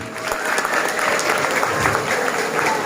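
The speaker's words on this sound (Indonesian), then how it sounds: "Tepuk tangan dulu untuk Irmasi" Audience at an Islamic children's gathering gives a round of applause, a continuous even wash of many hands clapping at moderate loudness for the full span.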